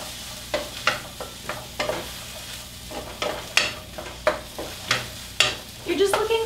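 Broccoli being stir-fried in a pan for a peanut butter vegan stir fry, with repeated sharp scraping and tossing strokes about every half second over a steady low sizzle, close and fairly quiet.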